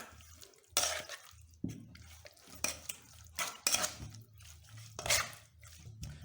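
Chicken burger marinade mixed with a little water in a bowl, heard as a run of scraping, clinking stirs against the bowl in uneven bursts, fairly close, with no talking.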